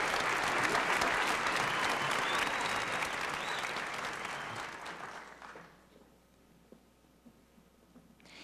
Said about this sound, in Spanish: Un aplauso cariñoso para ellos también.